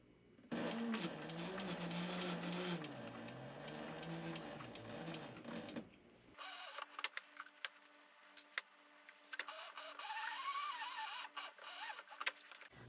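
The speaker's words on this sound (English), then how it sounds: "So we'll go to the sewing machine and sew those" A sewing machine stitches leather in a steady mechanical whir for several seconds, then stops, followed by scattered clicks and faint handling noises.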